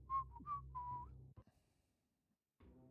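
A person whistles a short melodic phrase of several clear, bright notes, close and fairly quiet, followed by a few soft knocks and near silence before a low hum resumes.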